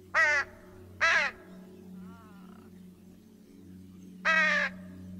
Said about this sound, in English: How can I scare off the crows?